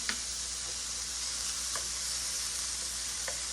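Vegetables sizzle steadily as they sauté in a pan, browning for a Greek chicken sandwich on ciabatta, a constant close frying hiss with a few soft stirring clicks and no voices.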